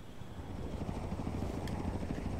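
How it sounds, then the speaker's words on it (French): A helicopter in the racing game Forza Horizon 3 drones steadily with a dense, loud rotor-and-engine roar that holds throughout. "il va falloir battre l'hélico"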